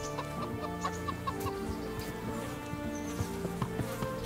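Chickens cluck in the medieval game Kingdom Come: Deliverance, with several short clucks scattered over a steady farmyard bed of buzzing insects and low ambient hum, no talking.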